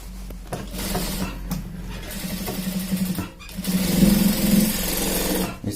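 Sewing machine stitching a straight seam along the seat of a pair of pants, a steady close buzzing hum that runs in bursts with brief pauses between runs.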